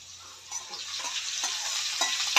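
Cluster beans (guar) sizzling in a pan as they are stirred, a close steady hiss that swells slightly with a few scraping stir strokes, no talk.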